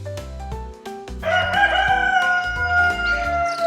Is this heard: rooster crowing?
yes